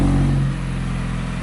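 A 2014 Mazda3 with its muffler removed drones at steady idle during a cold start, with a loud, raw, harsh, unmuffled rumble, close by and continuous.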